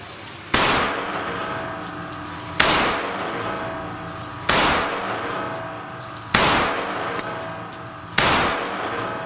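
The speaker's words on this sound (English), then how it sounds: "get a 5-round accuracy group" A Remington RM380 pistol fires five evenly spaced shots at about two-second intervals, each a sharp, loud crack with a short ringing decay, with no talking.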